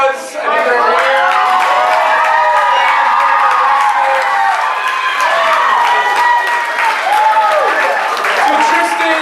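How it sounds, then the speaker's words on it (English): Loud crowd at a comedy night cheering, whooping and applauding continuously from start to finish, with a dense wash of shouting voices over the clapping. "let's give a warm round of applause to the people that made it happen"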